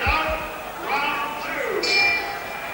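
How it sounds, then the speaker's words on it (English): A boxing ring bell at a middleweight bout sounds one clear, ringing ding to start the round, under steady commentary and crowd murmur. "Up before the bell as always."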